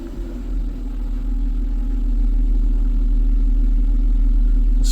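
A Mercedes-Benz E350 idling steadily with the brake held during a transmission service, a close, low continuous engine rumble that builds slightly as gears are engaged.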